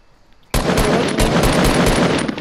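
Loud, rapid automatic gunfire from the video game Fortnite erupts after a brief near-silence and continues as a dense, steady stream of close shots.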